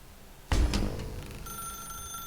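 In The Stanley Parable video game, a telephone starts ringing after a heavy thud, its bright electronic ring sustained and clear, with no talk over it.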